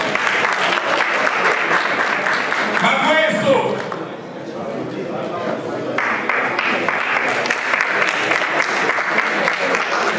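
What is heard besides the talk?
audience applause for named participants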